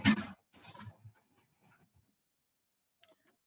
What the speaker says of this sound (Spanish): creo que uno de mis gatos se cayó en el baño